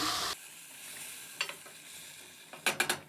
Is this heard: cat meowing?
no